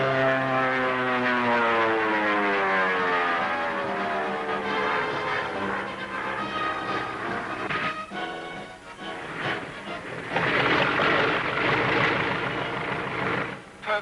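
A 1940s propeller airplane lands, its engine droning loudly with a steady harmonic whine that slides in pitch, then rougher rumbling and buffeting as it touches down and rolls out, close and continuous.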